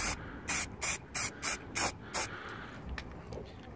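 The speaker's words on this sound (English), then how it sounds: "light spray like that" Spray can laying primer paint onto rusty metal in short, even bursts, seven quick hissing sprays in a steady rhythm, close and loud, followed by quiet handling.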